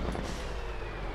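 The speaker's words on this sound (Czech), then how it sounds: "to má docela dobrý zvuk tý motorový brzdy" Loud, rumbling truck engine with a rough, noisy engine-brake roar at close range in Farming Simulator 22, no voices over it.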